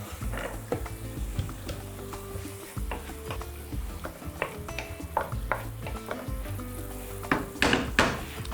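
Onion and a coarsely cut celery stalk sautéing in a pan for a beef and vegetable sauce, with a steady sizzle under repeated scraping and stirring knocks that grow busier toward the end.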